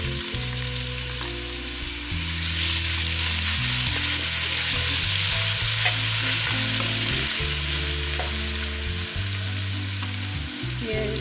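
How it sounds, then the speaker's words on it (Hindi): Garlic ginger paste hitting golden onions in a hot pan, a steady loud sizzle and frying hiss throughout with stirring scrapes, no speech. "अब मैं लहसुन अदरक का पेस्ट डाल रही हूँ।"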